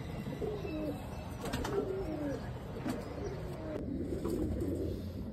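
Young pigeon chicks, unwell with indigestion from the heat, coo softly in a few faint, wavering calls over a steady low background hum.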